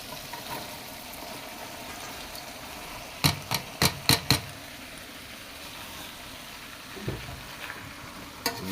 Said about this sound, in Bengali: কুচি করা ভাজিগুলো কপি গাজর মূলা আলু এগুলো আমরা